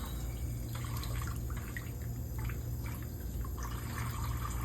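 Brushed steel instruments are rinsed under running tap water, giving a faint, steady trickle and splash that runs evenly from start to finish.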